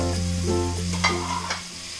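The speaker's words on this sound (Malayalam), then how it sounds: "ഈ സവോളയും കൂടി ഇട്ടിട്ട് വഴറ്റി കൊടുക്കാം" Sliced onions sautéing in a pan for a Kerala mutton roast, a steady close sizzle with soft stirring scrapes and a brief clink near the end.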